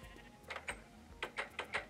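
Sheep bleat in the video game Minecraft PE, several short nasal calls in quick succession, quiet but clear with no talking over them.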